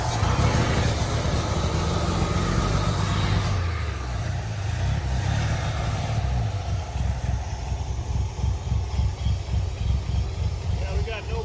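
An old Ford Bullnose truck engine running, first a steady loud rumble, then settling into a throbbing, pulsing idle that stays close and continuous.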